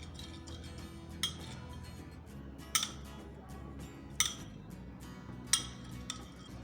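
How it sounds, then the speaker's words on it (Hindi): A spoon stirring honey and ginger juice in a small glass or cup makes sharp clinks at irregular intervals over a quiet room background, with no talking. "शहद और अदरक का जूस एक साथ बिल्कुल मिक्स हो जाए।"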